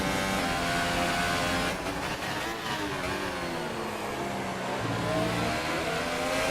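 A racing simulator car at Austria screams under load, its engine pitch climbing and dropping through upshifts, loud and close throughout with no talk over it.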